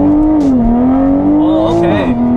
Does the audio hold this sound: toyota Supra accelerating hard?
yes